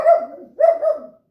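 A small dog barks twice, loud and close, with a short pause between the sharp yaps and silence afterward.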